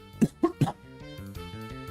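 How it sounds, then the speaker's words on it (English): Three quick, sharp coughs close to the microphone, followed by background music. "Sorry for the cough."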